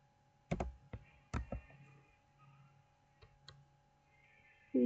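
A few scattered keystrokes on a computer keyboard, clustered in short bursts of clicks with gaps between, faint and close over a quiet room hum, while configuring a network switch for VLAN trunking.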